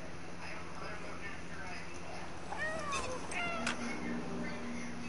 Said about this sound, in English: I forgot when I have to meow.